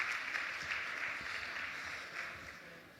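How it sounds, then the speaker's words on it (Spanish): Audience applause at a Spanish-language talk on neuromodulation devices, a steady wash of clapping at moderate distance that holds for about three seconds and eases slightly toward the end. "un aplauso, que disfrutéis mucho"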